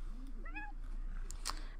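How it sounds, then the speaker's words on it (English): A cat meows in The Sims 4 with a short, rising and falling game meow, followed by a couple of brief higher chirps over a steady low background hum. "Meow. Sounding like my kitty."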